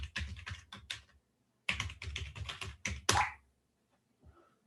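Password keys tapped on a computer keyboard in bursts of quick clicks, a short pause, then another run of fast keystrokes ending in a firmer press, close and clear with no talking.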